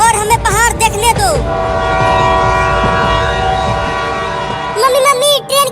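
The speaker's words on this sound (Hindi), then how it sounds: "मम्मी, ट्रेन की सीटी की आवाज आ रही है, लगता है अब ट्रेन आने ही वाला है।" A train horn sounds in a few loud bursts and is followed by the sustained rumble and clatter of a train passing close by, with loud voices speaking over the start and end.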